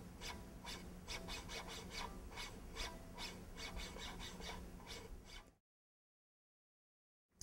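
A violin bow repeatedly draws across the strings in a 'polishing the strings' practice exercise, making steady, scratchy, rhythmic strokes for about five seconds before an abrupt cut to silence.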